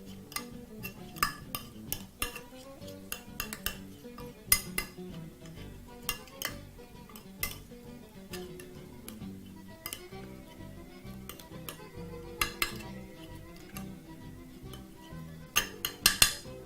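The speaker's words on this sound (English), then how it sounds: "And using a spoon, proceed to mix everything together" A spoon mixes curry powder, aromat seasoning and other spices in a bowl, giving repeated sharp metallic clinks and scrapes in an irregular rhythm, close and fairly clear against quiet background.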